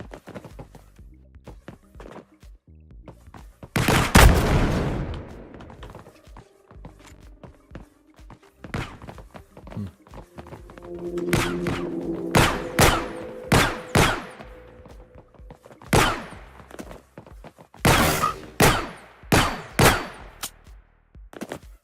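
Gunfire in an Unreal Engine shooter game: scattered sharp shots, one heavy blast early on, then a rapid run of bursts toward the end, with quieter movement sounds between.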